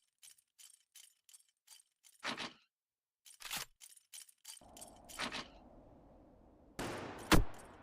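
Sharp, isolated gunshots ring out in Valor Mortis, a series of separate cracks spread over several seconds, some louder and closer, ending in a heavier burst over a low rumbling background.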